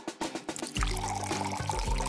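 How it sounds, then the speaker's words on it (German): Cola pours into a water pistol, a short bubbling liquid stream that begins abruptly after a few faint taps and gurgles steadily to the end, close and fairly quiet. "Ich gieße Cola in meine Wasserpistole."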